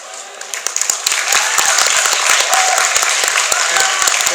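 Convention audience at an Auto Assembly 2015 Transformers Q&A panel breaking into loud, sustained applause, dense crisp clapping close by that builds quickly and holds steady.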